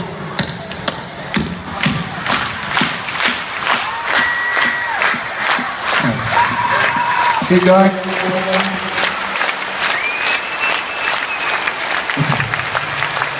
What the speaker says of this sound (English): I'd like to clap them together to this beat.